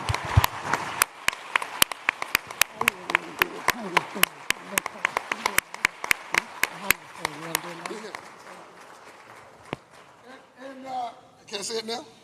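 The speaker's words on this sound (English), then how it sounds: "Please give these people a round of applause." Scattered sharp claps ring out from a conference audience at a global forum, loud and uneven at first, then thinning out as voices and laughter take over near the end.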